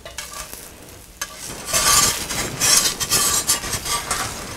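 Egg for an omelette cooking in a pan as it browns underneath: a soft sizzle that swells and turns steadier and louder partway through, with faint clinks of a utensil, heard close and without speech.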